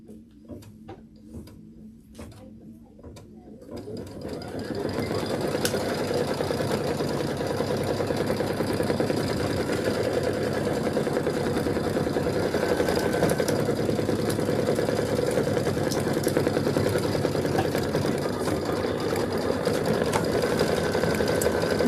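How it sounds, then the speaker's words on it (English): A sewing machine running a continuous satin stitch on a quilt block, starting after a few quiet seconds of soft handling noises and then holding a steady, dense mechanical whir close up for nearly twenty seconds, with no talking. "And then we're going to do the satin stitch."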